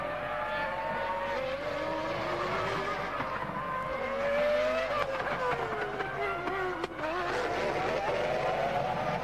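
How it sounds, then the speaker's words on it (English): A 2002 Formula One car makes a launch control practice start during practice at the French Grand Prix, its high engine whine rising and shifting through gears as it pulls away, loud and continuous beneath steady background track noise. "That's the little dedicated box in which you'd make your launch control practice starts."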